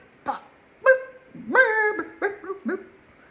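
A person imitates a dog, making whiny, yelping vocal sounds and short bark-like bursts, close and clear with pauses between them.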